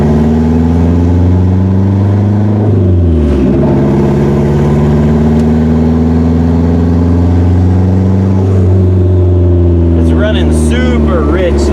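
Turbocharged Honda Integra with aftermarket turbo cams idling and revving while running rich, a loud steady engine drone with a brief rev around the third second and another near the end.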